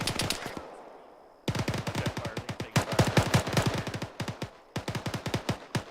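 Rapid automatic gunfire in a military field training exercise, long strings of close, loud shots broken by a short pause near the start and brief gaps later, with no talking over it.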